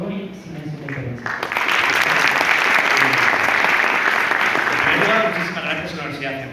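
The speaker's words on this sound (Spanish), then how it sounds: "Un aplauso, por favor" A university debate audience bursts into sustained applause, a dense wash of many hands clapping that swells quickly and holds steady for several seconds before easing off.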